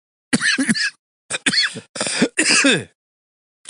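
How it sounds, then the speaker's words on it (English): A series of harsh coughs and throat clearing in short bursts, close and fairly loud, with brief pauses between them. "I'm coughing"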